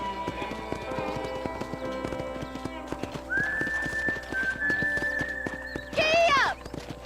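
Horse hooves clip-clop at a steady pace while riding in the Red Dead Redemption video game, up close and fairly loud. Music plays underneath, a long whistle-like tone enters midway, and a short whinny-like cry follows near the end.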